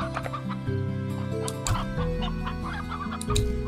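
Hens and roosters clucking repeatedly in Slime Rancher 2, several birds overlapping in close, busy bursts throughout.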